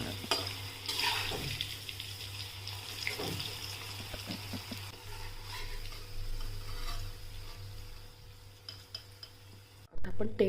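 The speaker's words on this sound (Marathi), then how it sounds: "सगळ्या साईडने तळून घेऊया." Cauliflower manchurian pieces fry in hot oil, turned on all sides, with uneven bubbling sizzle, stirring clatter and light pan contact over about ten seconds, ending in a louder burst of noise.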